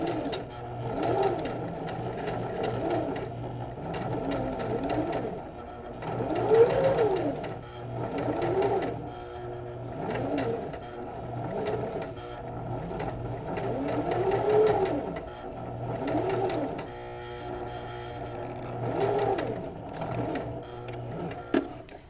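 A sewing machine zigzag-stitches a rolled or blind hem into folded fabric, its needle hammering in steady rhythmic bursts with brief pauses, close and clear.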